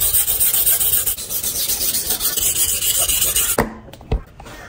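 A kitchen knife is stroked across a Rui whetstone, a steady close rasping scrape for several seconds that stops abruptly, followed by two short sharp taps.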